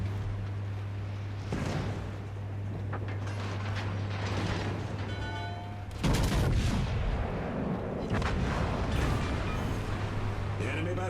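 Battleship guns in a naval video game fire in heavy booming blasts, the loudest near the six-second mark, with rumbling low-end, mechanical clatter and voices mixed in.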